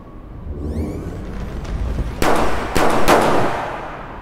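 Gunfire in a comedic audio drama: a loud burst of shots rings out indoors against a noisy background, followed by a second pair of sharp cracks moments later, with no talking over them.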